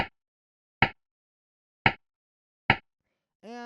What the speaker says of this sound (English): So the next thing I have here is a rim shot, which sounds like this.